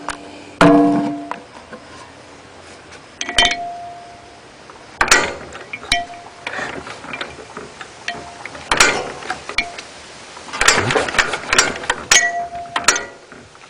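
A small engine being choked and cranked gives a series of sharp mechanical pulls and clanks in irregular bursts, loud and close, with quiet gaps between attempts and no voices.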